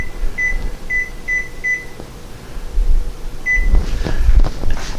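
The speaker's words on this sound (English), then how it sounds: "And I'm going to set the timer." An oven timer is keyed in with a run of four short electronic beeps followed by one more, each crisp and close, over a low fan hum and some handling noise while cornbread bakes.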